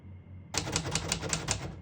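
Typing on a 1935 Royal A Model portable typewriter: a steady run of crisp, evenly spaced key strikes, close and clear, after a short quiet lead-in.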